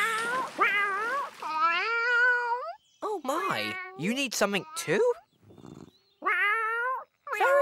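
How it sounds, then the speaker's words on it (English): A cartoon cat gives drawn-out, sleepy, yawning meows that rise and fall in long harmonic sweeps, close and clear, with a brief spoken line from a character in between. "The cat is yawning and she says she's sleepy."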